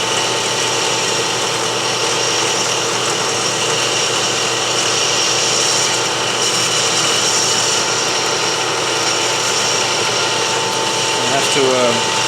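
A robotic drill bores a second hole during robot surgery, a loud continuous high-pitched whine with steady grinding that stays constant throughout, with no pauses.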